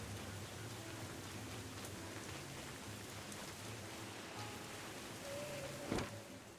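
Steady soft rain in the Don't Starve Hamlet video game, a quiet continuous hiss with a low droning ambience underneath, no voices, and a brief brighter burst near the end.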